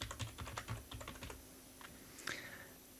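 Rapid keystrokes on a computer keyboard as a username and password are entered into a shopping cart login, a close burst of clicks that thins out, then a few scattered taps.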